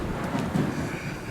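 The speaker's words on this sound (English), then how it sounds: "We just had a major storm here." Thunder from a major storm rolls as a continuous deep rumble with broad noisy texture, loud and sustained throughout, with no voices.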